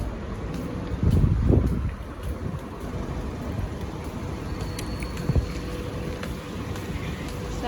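Cold wind blowing across an outdoor area in Dubai, a steady broadband rush with a stronger gust early on and faint background noise throughout.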